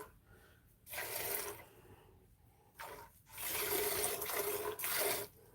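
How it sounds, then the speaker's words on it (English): Milk squirts into a bucket as a cow is milked by hand, coming in a few hissing streams of spray, the longest lasting about two seconds, close and fairly loud. "when I milk with my left hand, it's this way, and when I milk with my right hand, it's this way"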